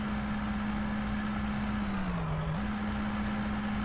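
A truck engine in the video game Out of Ore labors uphill, a constant droning hum that dips briefly in pitch as it strains before recovering, loud and steady with no talking.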